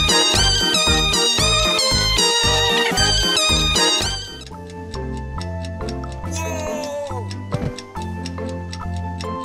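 A kitten meows within a meme song, first over a loud, busy musical passage and then against a sparser, steadily ticking beat.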